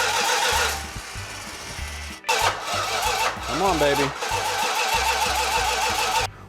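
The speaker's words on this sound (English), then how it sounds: "We had to do a few minor adjustments to get her to kick over and fire off." A 1969 1/2 Dodge Super Bee's freshly built 446 engine on a run stand cranks and catches, firing into a loud, rough idle with revving surges, close by, while a person speaks encouragingly over it.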